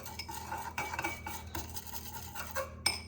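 Seasoning being mixed for keto baby back ribs headed for a crockpot, with soft scraping, stirring and clinking of a utensil against a bowl, fairly quiet and close.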